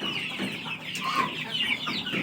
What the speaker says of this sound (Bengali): এই পাশের মুরগিগুলো তো অনেক বড় হয়ে গেছে